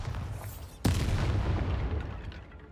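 Bombarda explosion spell going off in Hogwarts Legacy, a sudden deep boom with a sharp crack at the onset, then a rumbling decay lasting about two seconds, moderately quiet.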